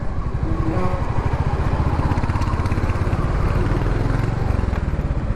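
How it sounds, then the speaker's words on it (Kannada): A small three-wheeler engine runs steadily nearby, a loud rapid putter with a constant rhythmic throb and no talking. "ಇಂಜಿನ್ ಸೌಂಡ್ ಬೇರೆ ಬತ್ತು"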